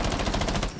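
Rapid automatic gunfire in the video game Rainbow Six Siege during a ranked match: a short, dense burst of evenly spaced shots rattling continuously for under a second.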